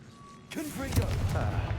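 In Hogwarts Legacy, a Confringo blasting spell goes off with a sudden explosive boom and a rumbling roar that lingers. A voice is heard over the blast.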